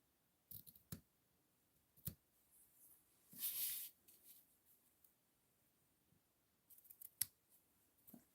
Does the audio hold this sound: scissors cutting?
yes